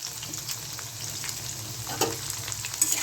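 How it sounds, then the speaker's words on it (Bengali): Potatoes fry in oil in a pan for a Bengali spinach mixed-vegetable dish, giving a low, steady sizzle with a few soft clinks of stirring, fairly quiet and close. "আলুটা একটু লাল লাল করে ভেজে নেব"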